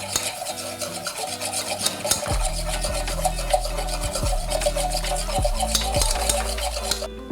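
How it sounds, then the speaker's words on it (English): Warm milk is whisked into a roux in a pot. The whisk rasps and scrapes continuously against the metal, with rhythmic strokes and a few sharper knocks. The sound is close and has no talk over it. "to my roux, I'm gonna add some warm milk. I'm gonna whisk it in as I add it."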